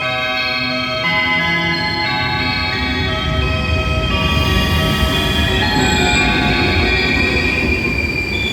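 An interregional night train from Cluj Napoca pulls into platform 2 at Sighișoara railway station, its wheels squealing loudly and steadily against the rails over a rumbling, clattering roll of railcars, close and continuous.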